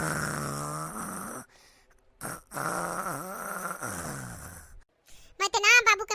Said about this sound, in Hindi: कितने खर्राटे ले रहा है, मुझको नींद नहीं लगी।